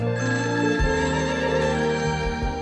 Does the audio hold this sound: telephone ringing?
yes